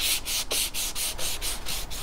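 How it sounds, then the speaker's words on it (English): Rhythmic back-and-forth rasping of sandpaper on a wooden moulding of a 1941 AWA Fisk Radiola model 276 radio, about ten steady strokes in two seconds, close and loud with no voices. "There's a lot of sanding involved"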